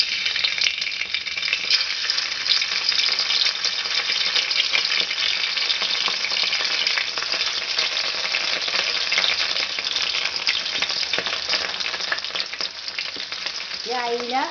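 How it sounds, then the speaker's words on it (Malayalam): Dried mackerel fries in hot coconut oil in a pan, a loud, close, continuous sizzle and crackle with no voices. "ഇനി നമുക്ക് അയില ഒന്ന് വറുത്തെടുക്കാം."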